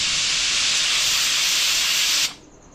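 Pressure cooker whistling while cooking moong dal khichdi on a gas stove: a loud, steady, hissing steam whistle held for over two seconds, then cutting off abruptly to quiet.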